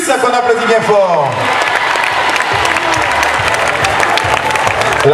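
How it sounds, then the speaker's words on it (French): Loud, dense crowd applause for a contestant at a Mini Reine du Sud 2011 children's pageant results ceremony, sustained throughout as a voice on a microphone trails off at the start. "qu'on applaudit bien fort"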